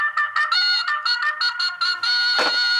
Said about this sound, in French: Ça, c'est la sonnerie qui me stresse le plus.